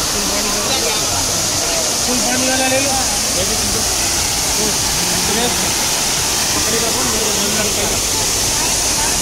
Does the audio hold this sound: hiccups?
no